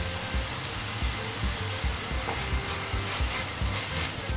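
Curry leaves and onions sizzle steadily in hot oil in a pan, a dense close frying hiss with faint stirring clicks throughout, no talking.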